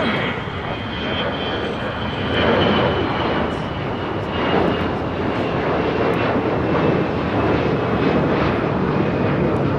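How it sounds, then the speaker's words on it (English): A Delta Airlines A321 takes off from the south side at LAX, its engines producing a loud, sustained broadband roar heard from nearby that swells slightly and holds steady for the full ten seconds. "Next takeoff here on the south side is Delta Airlines Flight 622 heading to Austin, Texas, A321"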